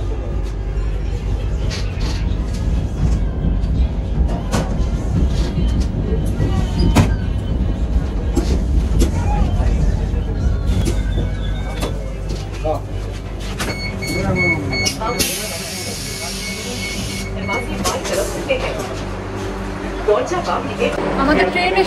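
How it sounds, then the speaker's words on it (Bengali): Vande Bharat Executive class train rolling into New Bongaigaon Junction, a steady loud rumble of wheels and carriage noise with speech heard over it and a brief high hiss midway. "আমাদের ট্রেন এসে ঢুকলো নিউ বঙ্গাইগাঁও জংশনে"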